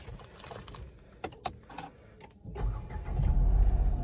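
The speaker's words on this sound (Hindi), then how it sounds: "तो गाड़ी स्टार्ट हो चुकी है" A 2022 Renault Kiger RXZ engine cranks after a few light clicks and catches, then settles into a loud, steady idle close by.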